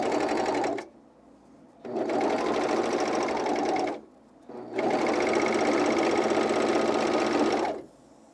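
Close and loud, a serger sewing underwear runs in three steady whirring bursts, the last one longest, separated by short quiet gaps.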